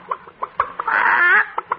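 Chickens being fed corn in a radio sound effect, quick bursts of clucking and a louder squawking cackle in the middle, close and busy.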